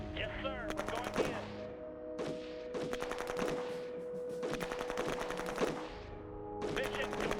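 Bursts of machine-gun fire from an attack on militia in the strategy game Shadow Empire, rapid rattling volleys in four or five separate bursts over a steady background drone.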